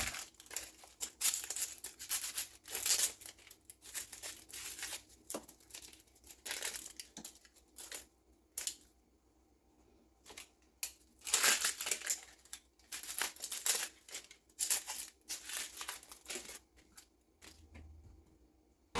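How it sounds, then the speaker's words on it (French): Onions cut into small pieces on a board, with dense irregular crisp slicing and crunching sounds in quick repeated bursts, close and fairly steady with a few brief pauses. "je suis juste en train de découper les oignons"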